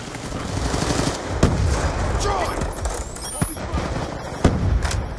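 Gunfire in Call of Duty Black Ops 2 multiplayer, bursts of automatic shots and sharp single cracks at moderate distance, repeating through the clip over steady game noise.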